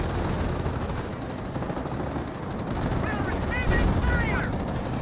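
Riflemen trade gunfire with Panzer Grenadiers in Company of Heroes: dense, continuous crackling rifle and automatic fire keeps a noisy battlefield din going throughout, with a few faint whistling tones near the end.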